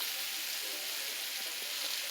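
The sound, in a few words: cabbage and kielbasa sizzling while frying in pan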